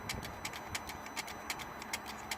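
The turbo actuator on a Mercedes ML320 CDI adjusts with the ignition on and the engine off, producing faint, quick, evenly spaced ticking clicks over a quiet hiss.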